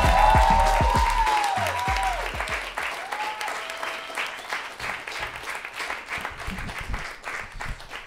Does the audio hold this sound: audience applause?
yes